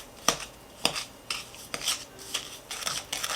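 Butter and sugar being creamed for heart-shaped cakes with a wooden spoon in a bowl, sharp rhythmic scraping knocks about every half second, close and fairly quiet with no talking.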